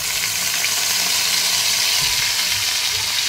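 Ginger, garlic and green chillies sizzle steadily in a hot pan, a continuous close frying hiss with faint stirring underneath and no talking.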